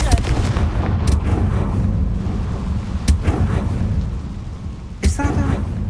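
Confringo fire-blasting spell cast in Hogwarts Legacy, giving sharp explosive bursts near 1, 3 and 5 seconds over a dense, rumbling game soundscape.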